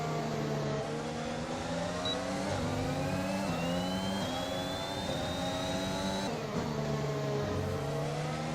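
Formula 1 race cars at the Hungary circuit in F1 2021, a steady high engine whine with shifting pitch as several cars run close together in a train, continuous and loud.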